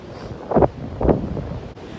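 Wind buffets the microphone in low, rumbling gusts on a cold day after snowfall on the Appalachian Trail, with two stronger puffs standing out over a steady outdoor roar.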